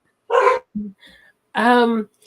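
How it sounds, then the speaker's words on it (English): Two short dog barks close by, separated by a brief whimper or yip, with silence between them. "the dogs are going to bark in a second"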